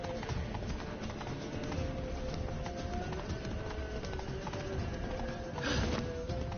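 Horse hooves clip-clop at a steady gallop in a Witcher 3 game scene, a continuous rhythmic patter under ambient game sound, moderately loud throughout with a brief swell near the end.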